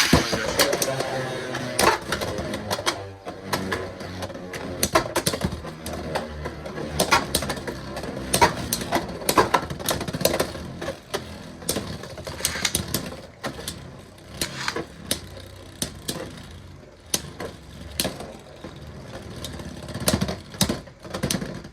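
Beyblade X spinning tops clash in a stadium, with Cobalt Dragoon in an opposite-spin matchup: dense rattling, whirring and sharp repeated clacks of metal-edged tops colliding, loud and busy throughout, with a voice speaking at times.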